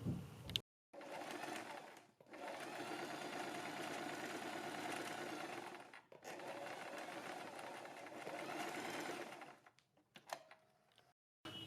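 A sewing machine stitches pleats on kurti fabric in steady, close, whirring runs broken by a few short pauses. Faint room noise sits underneath.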